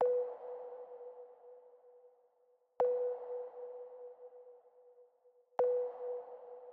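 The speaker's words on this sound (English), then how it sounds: "The only thing that I added is this sine wave snare." A sine wave snare in an electronic music track hits three times at an even, slow interval, each a sharp click followed by a pure ringing tone that decays slowly, heard alone and fairly quiet.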